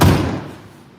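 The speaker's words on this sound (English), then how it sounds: "Shut that door." A door slams shut in a workshop, giving one loud, close, heavy thud that rings out briefly and fades within a second.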